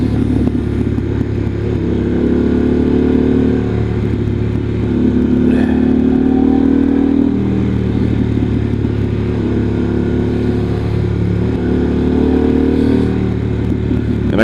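A 2023 Harley-Davidson Pan America motorcycle in sport mode cruising at low speed on a winding road, its engine droning steadily with rising and falling pitch under wind rush throughout, no voices.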